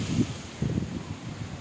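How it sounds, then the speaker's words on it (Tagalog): Gusty wind buffets the microphone in low, uneven thumps and rumbles, with no voices. "Lakas pa rin ng hangin."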